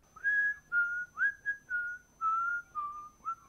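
A person whistles a short melodic tune alone, a series of clear sustained notes with brief gaps between phrases, close and moderately loud with no talking.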